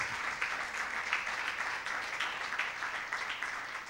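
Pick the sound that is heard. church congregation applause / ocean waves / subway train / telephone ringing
church congregation applause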